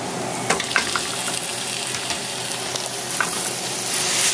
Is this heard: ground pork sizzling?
yes